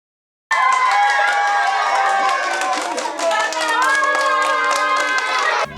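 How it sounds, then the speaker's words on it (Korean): Children at a Christmas Eve gathering cheer and clap as Santa Claus arrives carrying bundles of gifts, a loud, sustained burst of excited young voices that starts abruptly and carries on throughout. "선물 꾸러미를 든 산타 할아버지가 등장하자 아이들이 환호성을 터뜨립니다."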